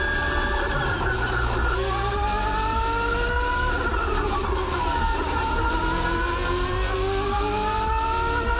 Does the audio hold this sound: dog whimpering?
no